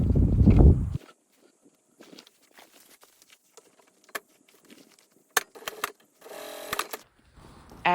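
A sewing machine stitches the side seam of a boat cushion in short, faint bursts of rapid whirring, separated by quiet pauses and small handling clicks, after a louder rustle at the start.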